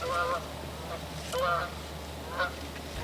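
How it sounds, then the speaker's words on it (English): A hunter blows a duck call in three honking bursts, nasal and goose-like, separated by short pauses over a low steady background rumble. "I just blew my duck call."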